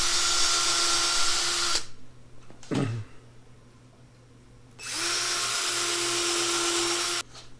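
A Chicago Electric power drill whines loudly for a couple of seconds while drilling wood for lag screws, stops, winds down with a falling pitch, then spins up again for another long steady burst.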